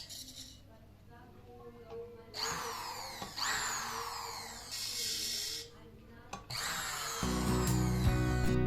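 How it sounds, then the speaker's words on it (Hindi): An electric sewing machine motor under test via its foot pedal, whirring in several bursts that rise and fall as the pedal is pressed and released, with a steady hum near the end, while someone talks over it. "मोटर को चला के ये मोटर चल रही है और पैडल ठीक काम कर रहा है।"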